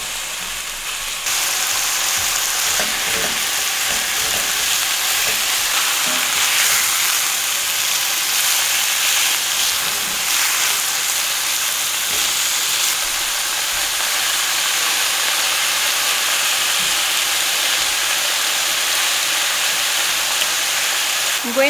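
Meat sizzles and fries steadily in a pan, a constant broadband hiss with faint crackles and a few soft utensil knocks running the whole time at close range, no voices.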